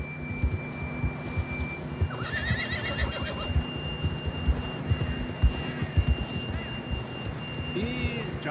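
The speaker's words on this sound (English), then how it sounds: "John was riding that horse when we left Blackwater." A horse whinnies in the Western video game Red Dead Redemption 2. A loud, wavering neigh rises over soft hoof clops and outdoor ambience, joined by a steady synthetic tone and brief chirps, with faint voices.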